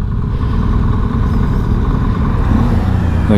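Motorcycles and traffic rumbling along a country road near Warrenheip, Victoria, Australia, a loud continuous low engine drone with wind-like roar, no talking.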